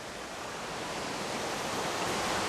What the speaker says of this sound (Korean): 저는 지금 황과수 폭포의 옆에서 서우담을 내려다보고 있는데요